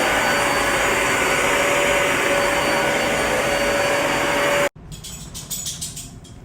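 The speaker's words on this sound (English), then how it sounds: "I'm also gonna clean it with our carpet cleaner vacuum" A carpet cleaner vacuum works over a thrifted rug, a loud steady whine with a constant tonal hum that cuts off abruptly, followed by quieter scraping and bumping sounds.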